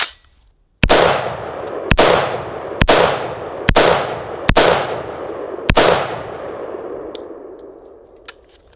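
A 5.56 rifle fired into a firehose outdoors, six loud sharp gunshots at irregular intervals of about a second, each ringing out with a decaying echo, then fading to quiet.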